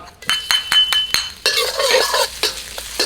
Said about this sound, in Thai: เราจะผัดไปอ่อนๆให้หอมเลย น้ำมันน้อย ๆหอมดีแล้วนะครับ